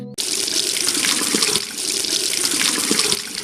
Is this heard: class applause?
no